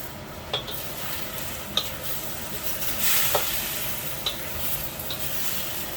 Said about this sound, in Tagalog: Malapit nang maluto ang ating ginisang gulay.